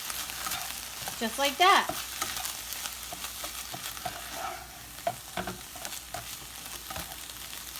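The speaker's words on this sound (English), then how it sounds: "And then I am going to stir it up." Egg roll filling stirred in a hot frying pan, a steady sizzle with scraping utensil strokes clustered early, then continuing to fry more quietly, with a brief spoken remark.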